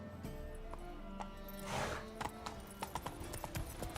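Hooves clop rhythmically as a horse gallops in The Witcher 3: Wild Hunt, with a brief whoosh of wind or movement partway through and no talk over the hoofbeats.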